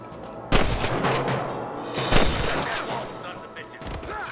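Gunfire in the Western video game Red Dead Redemption, with a few sharp shots cracking out amid a busy, noisy gunfight; loud and close, with shots spaced irregularly over a rumbling background.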